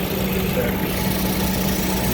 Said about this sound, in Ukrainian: Думаю, включається кондьор, то обороти падають, трошки йому тяжко робиться. Появляється трошки вібрація